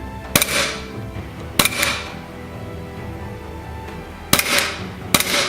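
An airsoft gas pistol loaded with gas but no BBs is fired four times with slow, uneven spacing. Each trigger pull gives a crisp, close pop and a short hiss as the slide cycles.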